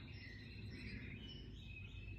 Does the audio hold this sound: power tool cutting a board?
no